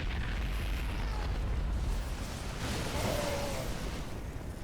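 An anti-armor missile detonates in a StarCraft 2 match, a muffled low rumbling boom over dense game noise with a brief whooshing tone partway through.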